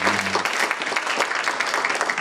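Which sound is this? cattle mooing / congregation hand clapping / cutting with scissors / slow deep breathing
congregation hand clapping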